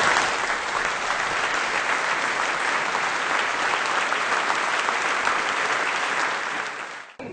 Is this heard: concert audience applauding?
yes